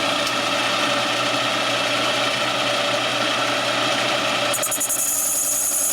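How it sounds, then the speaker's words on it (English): A Kwik-Way boring bar cuts an uneven bore in a 1978 Harley-Davidson shovelhead cylinder, producing a steady grinding, whirring machine drone with a rhythmic chatter, continuous and close, and a high metallic tone rising near the end. "You can hear the uneven bore, but it's cutting all the way around the whole circle."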